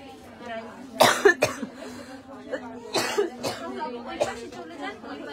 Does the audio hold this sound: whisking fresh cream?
no